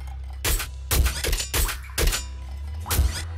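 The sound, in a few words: pop rifle firing in the video game Nuclear Throne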